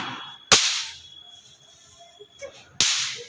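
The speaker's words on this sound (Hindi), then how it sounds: "जो छोटे छोटे पुट्टू पुट्टू बम फोड़ रही है" Two small Diwali firecrackers burst sharply, roughly two seconds apart, each a loud close crack with a brief noisy tail, with faint rustling in between.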